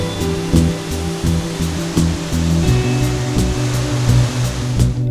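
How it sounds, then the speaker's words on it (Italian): A loud, constant roar of the Godafoss waterfall in Iceland, dense rushing water filling the whole clip with no pauses. "Il fragore della cascata"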